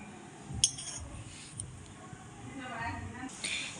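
A spoon clinks lightly against a silver bowl being readied for payesh, a few soft, sparse metallic taps under ongoing talking.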